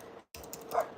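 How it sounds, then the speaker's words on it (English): A dog gives a single short, faint bark from some distance in a quiet room. "My dog is calling me."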